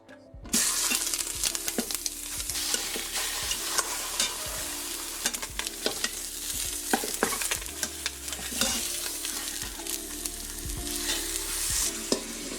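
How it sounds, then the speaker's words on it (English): Lamb shanks browning in a hot pan give a loud, steady sizzle, broken throughout by sharp clatters and scrapes of stirring, close and with no talk. "I sauteed the lamb shanks for a few minutes just to brown them."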